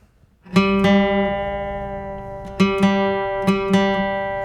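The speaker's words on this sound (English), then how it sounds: "What I'm listening for is the 2 notes to stop beating against each other." Two guitar strings are plucked together in repeated pairs, their ringing notes slightly out of tune and beating against each other as they sustain.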